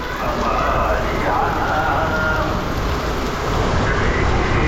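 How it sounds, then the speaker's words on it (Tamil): Heavy rain pours at Achankovil Sri Dharmasastha Temple in Kerala, a loud, dense and unbroken roar with a voice faintly beneath it. "இப்போ பாருங்க மழை எப்படி பெய்யுதுன்னு"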